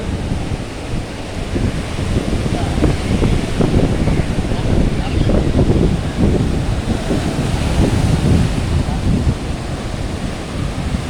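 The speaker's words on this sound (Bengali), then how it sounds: "ঢেউগুলো দেখা যাচ্ছে কীভাবে আসছে।" Ocean waves of the Arabian Sea rolling in on Kovalam beach in Kerala, a steady loud wash of surf with gusting wind noise throughout and no clear separate breaks.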